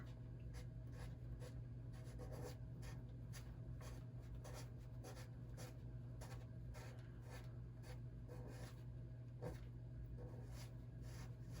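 Dry pigment being blended into the tooth of paper during a painting session, a steady run of quick, scratchy rubbing strokes repeating for several seconds over a low constant hum, close and fairly quiet with no talking.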